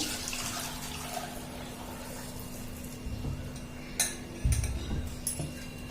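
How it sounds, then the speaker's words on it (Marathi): Wheat grains are rinsed in water using a sieve, with soft sloshing and trickling, quiet at first, then a few sharp splashes and clinks of a metal vessel near the end. "परत अजून दोन तीन वेळा पाण्याने स्वच्छ धुवून घ्यायचे आपल्याला"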